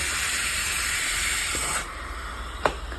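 A Bissell 1806 steam mop hisses steadily as it deep cleans a floor, a broad, close, continuous rush of steam that drops abruptly in level partway through and ends with a short sharp spurt.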